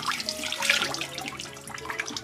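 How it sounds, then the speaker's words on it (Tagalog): Hands being washed under running tap water, a steady close splashing stream with small bursts of turbulence, heard alone. "Maghugas tayo ng maigi ng kamay."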